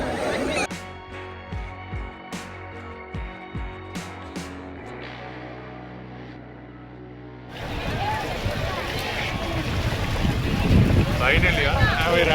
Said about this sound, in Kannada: ಬೋಟ್ ತೊಗೊಂಡಿದ್ದೀವಿ, ಬೋಟಿಗೆ ಹೋಗ್ತಾ ಇದ್ದೀವಿ